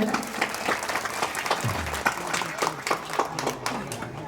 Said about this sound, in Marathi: या सर्वांसाठी एकदा जोरदार टाळी वाजवा.